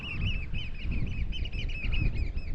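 A dense chorus of nesting seabirds calling continuously at Scourie, in the far northwest of Scotland, many overlapping high cries and squawks nearby, steady and loud throughout.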